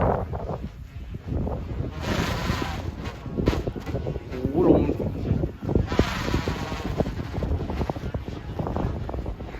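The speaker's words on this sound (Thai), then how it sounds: "ลมหัวฝน" Strong gusting wind ahead of a rainstorm buffets the microphone with loud, rushing roar and rustling, swelling and easing in waves, with a voice faintly underneath.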